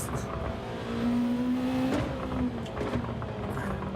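Race car engine in Gran Turismo 7 revving steadily with a sustained tonal drone, rising and falling through downshifts, loud and continuous across the whole stretch.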